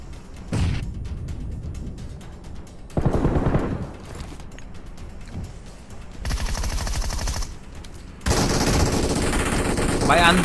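Rapid automatic gunfire in the shooter game PUBG, loud sustained bursts of several seconds each separated by short pauses, the last burst the loudest.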